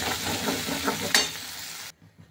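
Okra curry, tempered with cumin and mustard seeds and cooked with a ground masala paste, bubbles in a pan while it is stirred. There is close, continuous sizzling with scraping strokes, and it stops abruptly near the end.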